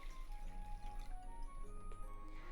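Cold water poured into a bowl to rehydrate dried wakame seaweed in a home kitchen, a faint soft trickle and dripping under a quiet room hum.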